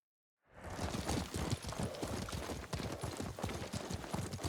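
Horse hooves clip-clop in the video game Ghost of Tsushima, a steady rhythmic trot of close, crisp hoofbeats that starts after a brief silence and carries on evenly throughout.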